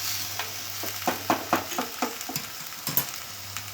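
Green vegetables, spinach among them, are stirred and tossed in a hot kadhai, giving a run of close, rhythmic scraping strokes over a low sizzle, with a brief steady hum at the start and end and no talking.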